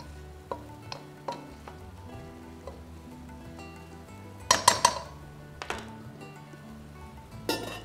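Green chilies and ginger fry in an Amway Queen pan, a soft sizzle broken by repeated clinks and scrapes of a utensil against the metal, with a louder cluster of knocks midway and no speech.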